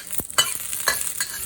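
Chinese sausage and cured pork stir-fried in oil, heard close up as a low, steady sizzle broken by four or five sharp stirring scrapes spaced unevenly across the moment.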